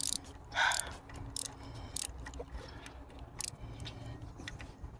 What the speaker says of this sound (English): This is a Husky. That's a good socket wrench.